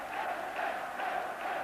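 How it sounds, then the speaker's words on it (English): A Norwegian football crowd celebrates late in the 1981 World Cup qualifier against England, a loud, continuous roar of massed voices that rises and falls slightly in waves and fills the whole moment. "Norwegian crowd already beginning to celebrate"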